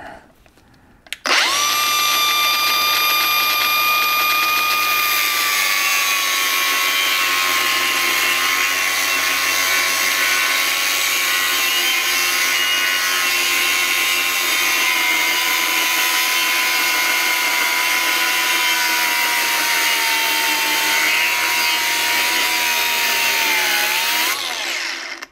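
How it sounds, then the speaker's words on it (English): An angle grinder works on the battery tray of a 2001 EZGO TXT 36-volt electric golf cart, spinning up sharply and holding one loud, steady, high-pitched whine for about 23 seconds before winding down. "I'm just going to whack it in a little bit with the grinder."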